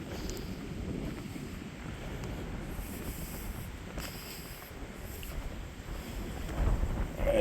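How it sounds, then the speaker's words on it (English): Strong wind buffeting the microphone near a rocky 485-meter peak in Byeonsanbando National Park, a steady rushing roar with gusty swells that grow louder near the end. "I'm gonna stay on this side since the wind's blowing on this side"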